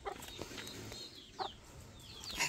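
Brooding hens with their chicks cluck softly in short, scattered calls, faint and a little distant, with no talking.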